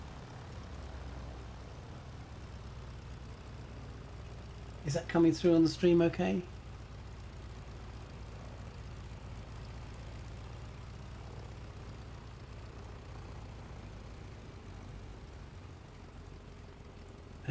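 A steady, low propeller-engine hum from a Stearman biplane in Microsoft Flight Simulator 2020 runs continuously, with someone briefly talking over it midway.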